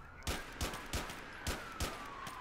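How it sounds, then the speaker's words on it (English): Gunshots ring out during a police patrol in GTA IV, a steady rhythm of five or six sharp reports about a third of a second apart over a faint siren wail, with no talking. "Oh god, shots fired"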